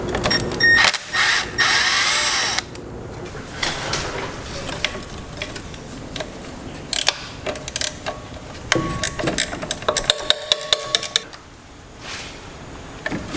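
Bolts and wire terminals are removed from the alternator of an Edsel that sat abandoned for 56 years, with close ratchet clicks, metallic clinks and scraping in uneven bursts alongside quieter handling noises.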